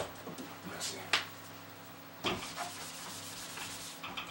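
A writing surface is wiped clean with quiet, uneven rubbing strokes and a couple of sharper scuffs, soft and close.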